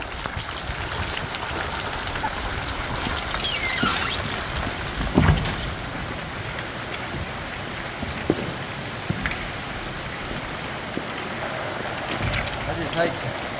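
Rain patters steadily outdoors around a work site, a soft, continuous wash with scattered louder drops and occasional knocks and squeaks; people talk faintly at times.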